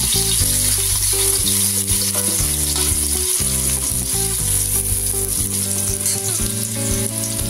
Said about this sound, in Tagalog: Yan, mainit na yung mantika. Lagyan na ang bawang.